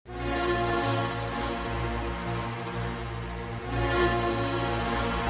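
A dry, sustained synth line plays a steady, full-bodied tone with a slight swell near the end, no other sounds present.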